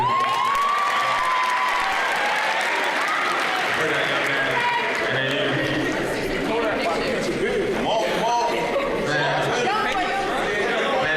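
A school audience claps and cheers for a rapper, with steady applause mixed with loud crowd chatter and children's shouts running throughout, close and dense.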